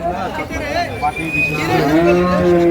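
Horned cattle at a market where cows are sold moo loudly and close by, a long drawn-out low call with a rising tone, while people chatter faintly in the background.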